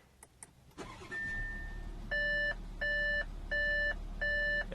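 A 2016 Audi Q7 starts up: a click and engine turnover settle into a steady low idle, followed by a thin tone and four evenly spaced electronic chimes ringing clearly over the engine, with no voices.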